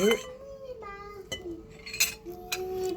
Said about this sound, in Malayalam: ചോറ് വിളമ്പിക്കൊണ്ടിരിക്കുകയാണ്